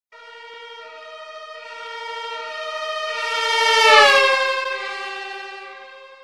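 A police car siren wails loudly in a long sustained tone, rising in pitch as it approaches and then dropping lower as it passes, with no talk.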